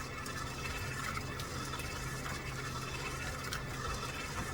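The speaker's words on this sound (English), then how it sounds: "With your mixer running" An electric stand or hand mixer whirs steadily as it creams butter and sugar for snowman butter cookie dough, a continuous close mechanical hum and rattle of beaters with no talking.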